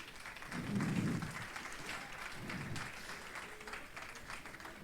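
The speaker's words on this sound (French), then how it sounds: "On peut l'applaudir chaleureusement." Steady applause from an audience at a talk, a dense wash of clapping that swells briefly near the start and then continues evenly.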